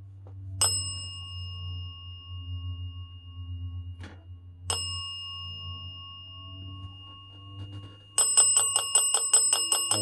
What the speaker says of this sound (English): Can you make the bell go crazy? Like ring a lot?